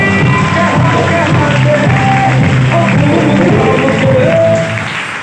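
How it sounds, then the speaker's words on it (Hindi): A loud, sustained wash of audience applause with crowd noise and cheering fills the whole stretch, then eases slightly at the end. "क्या बात, जोरदार ताली हो जाएगा।"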